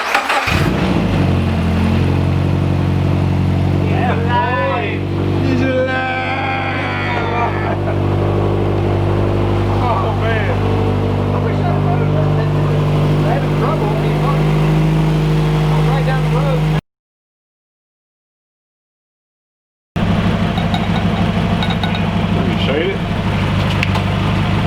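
A Volkswagen GTI's engine runs after being reassembled, holding a steady low idle drone throughout, with people talking over it and a brief cut to silence near the end.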